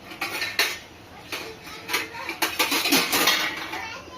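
Dishes and pots clatter and clink repeatedly in a home kitchen, with bursts of metallic knocks and scraping spread unevenly across the moment, fairly close, with no talking.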